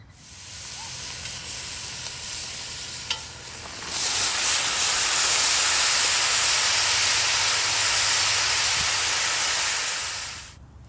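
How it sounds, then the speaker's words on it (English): Meat sears in a Dutch oven over a campfire, bursting into a loud, steady broadband sizzle and hiss after a quieter opening, holding close and even for several seconds before cutting off. "We're going to sear some meat in here."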